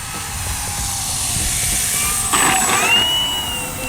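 A large radio-controlled P-51 Mustang warbird model plane flies with a steady, droning engine at half throttle, heard continuously from a moderate distance with a slight pitch sweep near the end.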